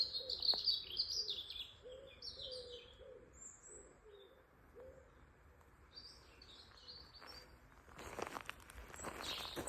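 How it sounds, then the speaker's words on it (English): Birds chirp and tweet in short, scattered calls, with a dove cooing low and steady beneath them, in a quiet outdoor setting on a hike by a lake. "Birds."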